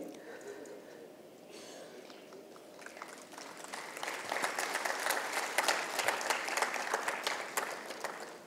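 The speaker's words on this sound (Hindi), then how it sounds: "एक जोरदार तालियां हो जाए आपके स्टेज पे आने के ऊपर।" Audience applause at a parenting talk event, rising after a few seconds of faint room noise into steady clapping from a crowd, heard at a moderate distance.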